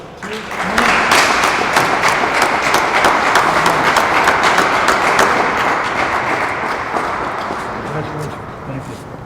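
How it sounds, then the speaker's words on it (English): Applause from a crowd at an outdoor ribbon cutting for Eastern Kentucky project announcements, a steady wash of clapping that swells in and runs throughout, with voices talking over it. "Let's give these 2 individuals a big round of applause as they cut the ribbon"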